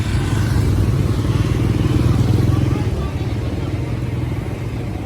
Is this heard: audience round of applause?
no